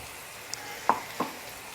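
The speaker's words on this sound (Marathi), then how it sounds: "आता ह्याच्यातलं पाणी ना आटेपर्यंत आपल्याला त्याला आहे ना फ्राय करून घ्यायचं आहे" Tomato puree fries softly in a pan, a faint low sizzle with a few brief pops and bubbles.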